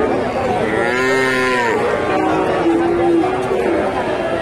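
Bull or cow mooing at a large cattle market in northern Bengal, where Friesian bulls are sold; a long, loud, drawn-out low moo dominates, then a shorter second call, over steady crowd chatter.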